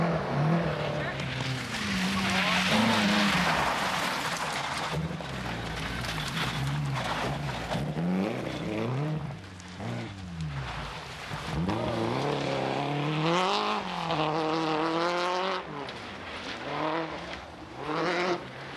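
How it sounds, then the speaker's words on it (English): Rally cars, including a Nissan-powered Peugeot and a Toyota Celica GT4, race through snow, mud and ice on a Scottish rally stage, engines revving and rising in pitch as they pass. A narrator talks over the sustained motor noise. "But Donald Milne of Bankery put in a good early form in his Nissan-powered Peugeot in the treacherous conditions of snow, mud and ice"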